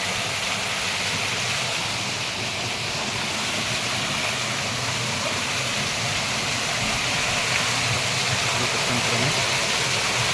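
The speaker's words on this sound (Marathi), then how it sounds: "या साईडला काळमांडवी धबधबा, जव्हार येथील काळमांडवी धबधबा" A continuous roar of rushing, falling water from Kalmandvi waterfall near Jawhar fills the air, broad and steady throughout with no pauses.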